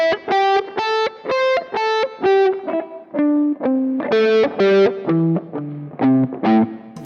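An electric guitar with distortion plays a run of picked notes with uneven attack, some notes loud and others barely sounding, close and alone.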